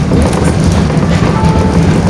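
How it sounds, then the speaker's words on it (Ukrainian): A tram ride toward a bus station in a Ukrainian city, steady rolling rumble and rail noise filling the cabin throughout, with a faint high squeal partway through and no talking. "Їду з трамвайчику на автовокзал."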